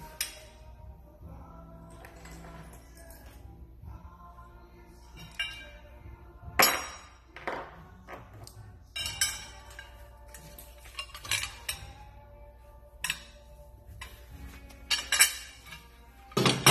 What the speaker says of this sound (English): take a simple BMW lug nut, or lug bolt in this case, large nut, screw it all in place